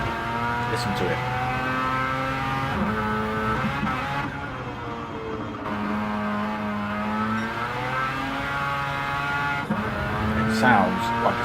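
Mazda RX-7 rotary-engine race car running in a classic touring car qualifying session at Brands Hatch, its buzzing engine note rising and falling steadily throughout, with commentators talking over it.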